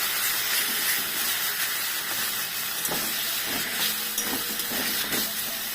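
Katla fish fries in a pan with garlic and ginger, giving off a loud, steady, close hiss and sizzle with small crackles throughout and no talk.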